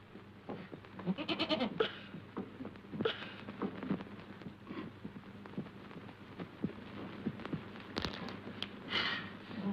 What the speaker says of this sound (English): a very wild goat, isn't she?